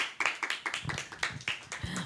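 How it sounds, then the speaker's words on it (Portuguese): A small studio audience claps to welcome a guest onto a stage, a sparse, moderately quiet round of individual hand claps with uneven rhythm. "Uma salva de palmas"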